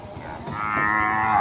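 A cow lets out a single rising moo, close and loud, while cattle are unloaded from a truck at a cattle market; no talking is heard.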